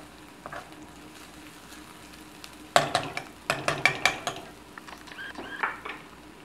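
Ginger, garlic and canned crushed tomatoes frying in a pan over a gas flame for channa masala, with quiet low sizzling first and then a run of louder crackling, spattering bursts and stirring scrapes at close range.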